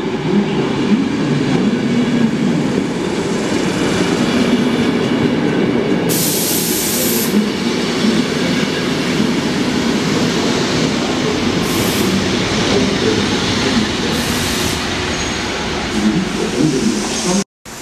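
A passenger train pulls into Leuven station with a steady rolling rumble from close by, bursts of hissing brake air, and squealing wheels as it comes to a stop.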